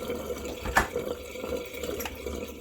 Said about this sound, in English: I'm going to let that water out for the next batch.